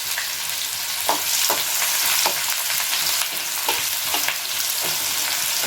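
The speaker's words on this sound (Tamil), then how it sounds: "எண்ணெய் காய்ந்ததும் கடுகு கடுகு பொரிஞ்சிடுச்சு வெங்காயத்தை ஆட் பண்ணிக்கணும்" Onion frying in hot oil after mustard seeds have spluttered, for baby corn gravy, a loud dense continuous sizzle close up, with periodic scraping strokes of a spoon stirring, no speech.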